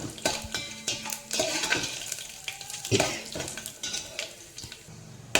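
Tempering spices sizzle and crackle in a hot brass pan on a simmering flame, with steady frying hiss under repeated sharp stirring scrapes and clinks of a spoon against the metal.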